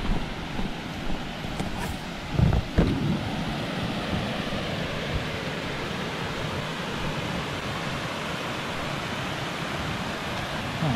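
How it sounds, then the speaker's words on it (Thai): A waterfall flows beside a trail-race campsite in Thailand, a steady broadband rush of water close by that fills the whole stretch, with a couple of brief louder bumps near the start and no talking. "มีน้ำตกนี่ดูเลย"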